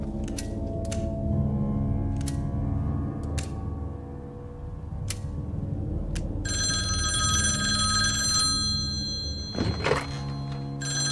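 A telephone bell rings in short bursts over a dense background of music and ambience in a dubbed police film, then a louder, sharper knock or thunk lands near the end of the clip.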